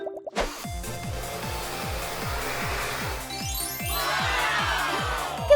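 Water drips in a quick, steady series of plinking drops, about three per second, loud and close over a constant airy hiss, with a brief knock at the start and end and no speech.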